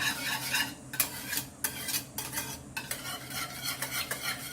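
A spoon stirs ripe banana puree in a container, with repeated scraping and clinking strokes in an uneven rhythm over a steady background hiss. The sound is close and fairly quiet, and no one speaks.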